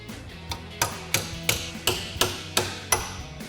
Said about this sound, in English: grab a punch and a small hammer. We're just going to tap this up off of the cap here.